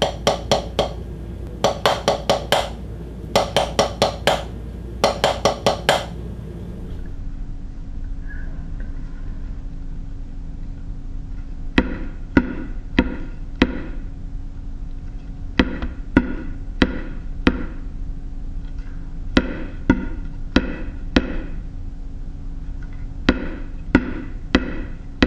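Drumsticks play a paradiddle rudiment, with sharp clicking strokes in quick grouped bursts: several tight clusters early on, then a steadier run of evenly spaced single and paired hits, close and alone.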